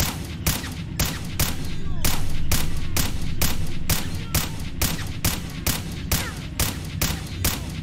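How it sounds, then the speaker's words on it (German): Rapid gunshots from S.T.A.L.K.E.R. Clear Sky ring out, about a dozen sharp cracks spaced roughly evenly over a low rumbling background, loud and close. "Ich werde dir einfach die Hand kaputt schießen."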